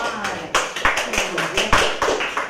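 Classroom applause from fourth-grade pupils thanking a visiting psychologist, uneven bursts of clapping and slaps close by, with irregular loud hits over a couple of seconds.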